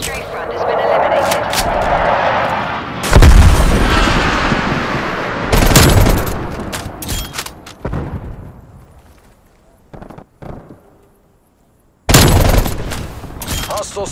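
Air strike explosions in a military video game come as several heavy, booming blasts with sharp onsets and long rumbling decays, separated by quieter gaps. The impacts are loud and close.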